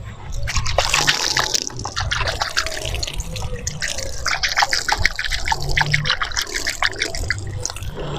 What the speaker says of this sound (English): you need to pour the water directly on the bed